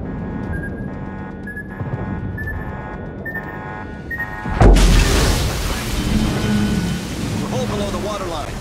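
Torpedo hits in World of Warships land as a sudden heavy explosive boom midway, followed by a rumbling roar and crackling debris over ongoing game ambience and tones, loud and close.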